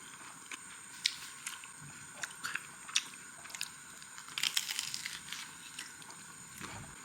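Faint crisp crunches and bites of fried chili peppers scattered through a quiet room, with a busier cluster of crunching midway and a steady background hiss.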